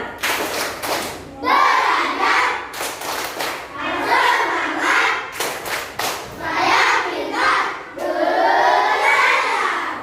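A school class of children claps in rhythmic patterns during an Indonesian classroom clapping chant, mixed with chanting voices. Bursts of clapping alternate with short sung or shouted phrases, loud and close.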